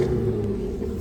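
Low exhaust drone of an Audi A6 3.0T fitted with a Gibson anti-rasp muffler and a crackle tune, heard from inside the cabin while driving, a steady close rumble lasting about a second.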